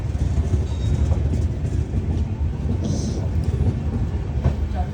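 Magadh Express rolls out of Tundla station, a loud, continuous heavy rumble of wheels and carriages with faint rhythmic clatter, heard from on board.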